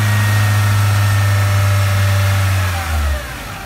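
A car engine holds a loud, steady high rev around 3000 rpm close by, then drops back toward idle near the end.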